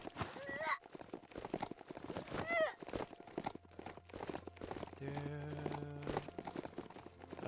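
Horse hooves clip-clop in a steady trotting rhythm while riding, heard beneath someone talking throughout, with a sustained droning tone joining near the end.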